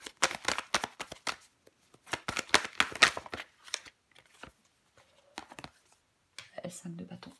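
Tarot cards shuffled and drawn during a reading, giving quick papery riffles and soft slaps in several bursts with short pauses, close and moderately loud, with a short spoken bit near the end.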